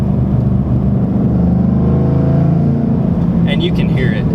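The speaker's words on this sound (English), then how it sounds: "It has that classic Magnaflow rumble to it." Exhaust rumble from a 2012 Mustang GT running an RTR axle-back Magnaflow muffler with no catalytic converter, a loud, deep, steady drone close by, with a voice talking over it.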